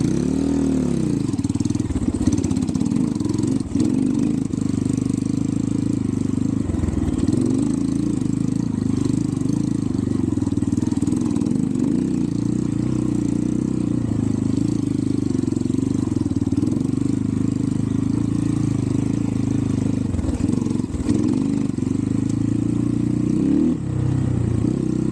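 A TemplarX 250 dirt bike engine bogging on a trail ride, running loud and close with a continuous rough drone, slight rises and dips in the revs, and occasional clatter throughout.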